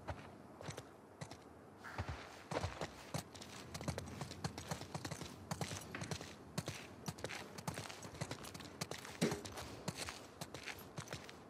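Horse hooves clip-clopping in The Last of Us Part II, an uneven run of hoof strikes on the ground that starts faint and turns fairly close and steady.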